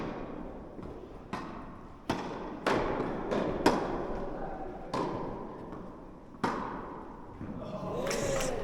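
Tennis ball struck back and forth in a match rally, a series of sharp, evenly spaced pops at moderate distance, closing on a quick volley, with faint background voices underneath.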